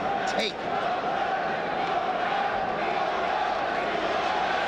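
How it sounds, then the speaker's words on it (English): Boxing arena crowd at a Paul Vizzio versus Juan Torres bout in 1994, a broad steady roar of cheering voices filling the space without letup, with one brief shout rising above it near the start. "I know the crowd is cheering for Paul Vizzio"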